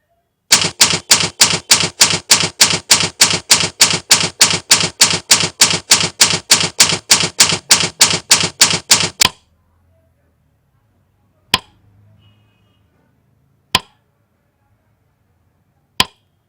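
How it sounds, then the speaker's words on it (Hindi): A typewriter sound effect from a PowerPoint morph transition animation plays a rapid, evenly spaced run of about thirty crisp, loud key strikes, then falls silent apart from three isolated sharp clacks. "मैंने कहा भाई मैं इसके अंदर टाइपराइटर का साउंड रखना चाहता हूँ"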